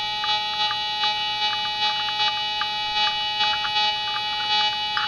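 A Whites MX Sport metal detector in relic mode gives a steady electronic threshold tone with layered constant pitches, broken by short repeated pulses and blips at an irregular rhythm.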